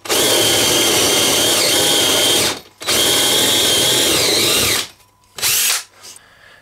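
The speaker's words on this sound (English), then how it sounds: "And I'm going to be using a forcing bit." A power drill driving a 30mm forcing bit into wood for a lathe bowl mount: two long, loud bursts of steady whirring and grinding, then a short final burst, close and alone.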